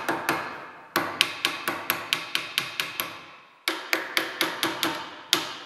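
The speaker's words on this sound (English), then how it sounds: "I'm using the peen end of a ball peen here. create a nice upset, kind of decorative" A ball peen hammer's peen end strikes metal held in a vise to upset it decoratively, ringing close blows in steady rhythmic runs of about three per second with a short pause between bursts.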